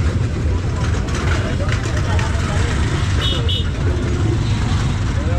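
Heavy road traffic on an island, a steady dense rumble of cars, buses and trucks close by with no gaps, mixed with a voice speaking over it.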